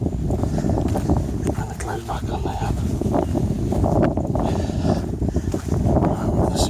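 Wind buffets the microphone on an exposed hilltop walk in the Peak District near Chatsworth, a steady low roar running beneath someone talking throughout.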